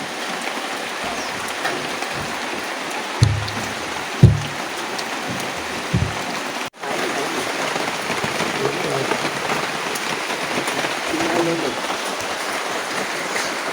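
Heavy rain pours steadily throughout as a dense, even hiss, broken by a few dull knocks and bumps near the start and faint voices in the background.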